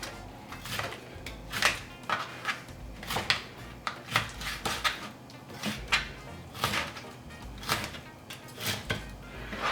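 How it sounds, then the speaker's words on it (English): Salted cod being cut into small pieces on a board, a series of sharp, irregular knife chops and clacks close by, with occasional dish and utensil clatter in between and no talking. "I'm gonna cut my cod in small pieces"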